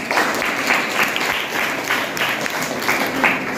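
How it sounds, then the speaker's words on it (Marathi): Students at a school event applaud in a sustained burst of dense clapping, steady and fairly loud throughout, with no voices standing out above the hands. "त्यांच्यासाठी एकदा टाळ्या वाजवा."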